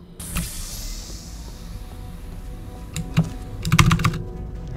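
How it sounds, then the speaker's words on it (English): A computer keyboard clatters with quick repeated key presses on the spacebar, faster bursts toward the end, close and steady under a faint background hum during a Portal 2 game session. "Spam that spacebar."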